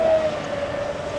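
An Expresscraft Thunderbolt electric twin-motor model boat runs at full throttle on water, a steady high motor whine over a wash of spray and hiss, brief and fairly close.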